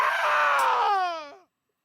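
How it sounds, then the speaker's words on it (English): A scream in the Triangle Strategy video game, loud and strained, wavering as it rises into a shrill, quivering cry before cutting off abruptly after about a second and a half. "Those sound very painful screams."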